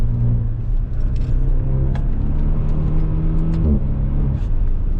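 A Maserati Levante GT Hybrid with a four-cylinder engine on the move, a steady low engine drone with a sustained tone and light cabin rattles, heard from inside at an even level.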